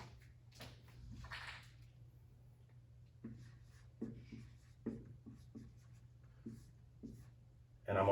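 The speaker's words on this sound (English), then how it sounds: "Let me write that down." Faint pencil or pen scratches on paper during a lab measurement come in short, scattered strokes over a low steady hum, close and quiet.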